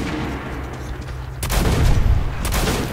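A shotgun fires twice in the video game Metro 2033, with loud, booming blasts about a second apart over a low ambient rumble.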